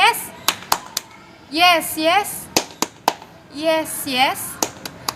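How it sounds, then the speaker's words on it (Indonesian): Children at a class 4 morning assembly perform the 'tepuk yes' clapping chant, sharp claps ringing out in rhythmic bursts between loud, sung group shouts, close and energetic. "Yuk kita tepuk yes bersama"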